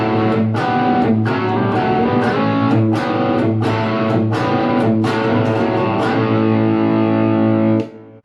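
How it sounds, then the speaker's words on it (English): Two electric guitar parts from a song played together, overdriven chords with sharp rhythmic attacks ringing steadily for about eight seconds before cutting off, with no voices. "And you put those guitar parts together and it sounds like this."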